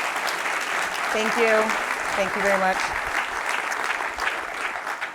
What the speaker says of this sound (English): let's give another round of applause for Andrea